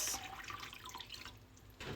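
Cool tap water pours steadily into a container for a vinegar soak when tanning beaver tails, a close, continuous splashing flow that briefly eases before surging again.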